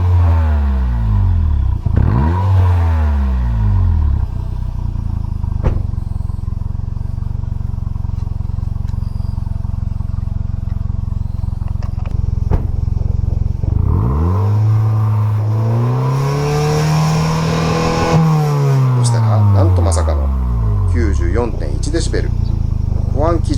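Car engine fitted with an inner silencer in its exhaust, revving repeatedly with rising and falling sweeps, a long climbing rev near the end, loud and close over a steady idle, with talk running underneath.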